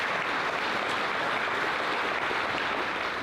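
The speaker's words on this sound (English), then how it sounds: "Why don't we give the teachers a nice round of applause" Steady applause from an audience at a school World Language Honor Society induction ceremony, honoring teachers on stage; dense, even clapping fills the room for the whole stretch, with no voices over it.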